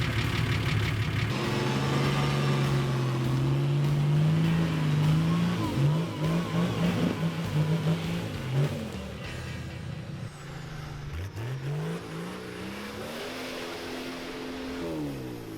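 Four-wheel-drive trucks revving hard through deep, sticky mud bogs at a New Zealand winch challenge event, engines straining and rising in pitch, loud and close, with bursts of acceleration and wheelspin throughout.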